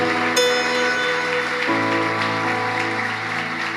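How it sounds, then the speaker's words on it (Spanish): Church congregation breaking into big applause for the Lord during a Spanish-language sermon, a dense, steady wash of clapping over sustained organ-like chords that shift partway through. "Dale un aplauso grande al Señor"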